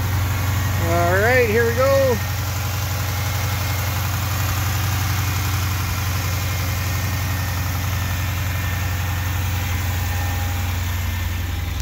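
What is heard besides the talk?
2014 Dodge Challenger engine starting and idling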